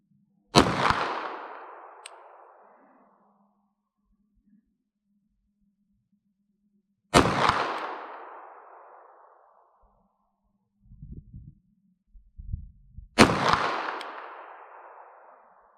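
Three loud, sharp 9mm Luger pistol shots fired offhand at an outdoor 50-meter range, spaced several seconds apart, each with a long echoing decay, and faint handling noises between them.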